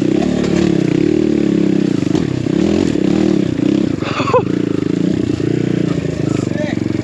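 BBR KLX170 dirt bike on a snowy enduro trail, its engine buzzing and revving hard throughout with rising and falling pitch, close and loud, with a rider talking over it.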